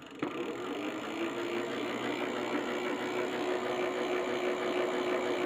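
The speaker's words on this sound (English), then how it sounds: "I'm going to use 50 farads to push the motor" A 24-volt e-bike hub motor powered by 50-farad capacitors runs with a steady close electric hum and whine, holding an even level throughout with no talk.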